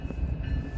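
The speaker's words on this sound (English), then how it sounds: "stack train out of Fremont here" An intermodal stack train passing near Fremont, a brief, loud, steady rumble of rolling railcars with a faint tonal whine above it.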